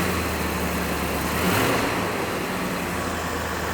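A Land Rover engine idles smoothly and steadily, a close, even low rumble holding the same note throughout with no speech.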